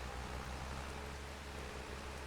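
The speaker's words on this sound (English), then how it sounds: "with the weather as it is, we should get out of the rain, get inside nice and dry" Steady, even rain hiss in the Farming Simulator 25 video game, a soft continuous wash of falling drops with no voices.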